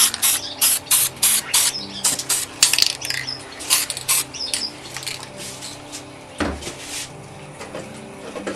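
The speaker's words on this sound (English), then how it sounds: "we just give it a quick light spray to get the edge" Short hissing bursts of an aerosol spray paint can, about a dozen quick rhythmic puffs up close, then a longer spray and quiet.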